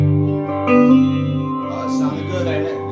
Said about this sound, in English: So let's turn on some reverb.